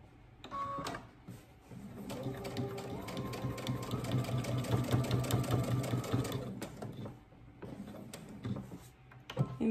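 A sewing machine back stitches a garment seam near the pocket placement, a close, continuous mechanical whirr with rhythmic needle clatter lasting several seconds before trailing off into small handling sounds.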